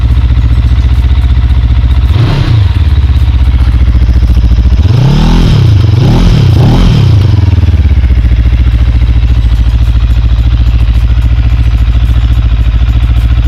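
Up close, an SM Sport 400 motorcycle idles smoothly and loudly, with one short rev followed by a quick series of three throttle blips before settling back to a steady idle.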